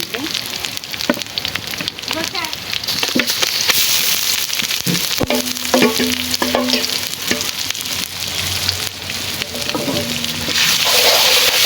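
Chicken pieces hit a hot wok with chopped onion and ginger paste, setting off a loud, continuous sizzle with scraping spatula strokes and clattering stirs throughout, close and without talk.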